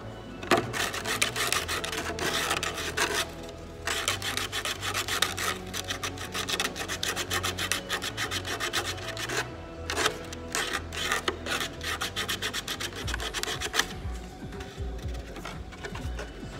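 Continuous rasping rub of sanding on a Tamiya Ferrari 458 Italia body shell, smoothing ridges; steady back-and-forth scratching strokes close up, with brief pauses around four and fourteen seconds.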